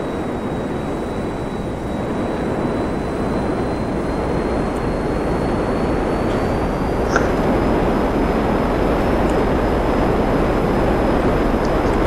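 Steady jet roar from a Hydra jet descending vertically in GTA 5, a continuous loud engine wash with a faint high whine above it.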